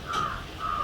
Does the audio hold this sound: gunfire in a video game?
no